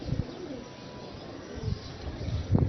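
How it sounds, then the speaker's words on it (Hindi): Pigeons cooing in a rooftop pigeon loft, with soft low coos and a few chirps over a constant background hum, a louder coo near the end. "इस तरफ ये कबूतरों का हमारा सेटअप है।"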